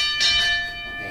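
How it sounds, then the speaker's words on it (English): A wrestling match ring bell is struck once at the start of a mixed intergender no-DQ bout, giving a bright metallic clang whose tones hang and slowly fade over about a second. "Ring the bell."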